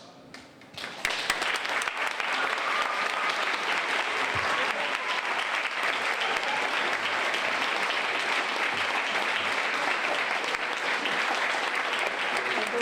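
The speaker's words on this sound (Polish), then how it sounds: "Dostaliśmy już takie brawa, że w zasadzie moglibyśmy już zejść." Audience at a Sopot concert applauding a legendary group as they are welcomed on stage: dense, sustained clapping from a large crowd that swells in after a quiet moment and stays steady and loud.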